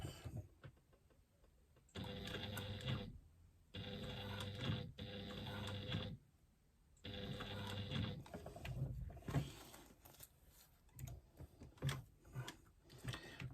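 A hand-cranked sewing machine stitches strap connectors onto a retro clutch bag, its mechanical whirring coming in steady bursts separated by short pauses.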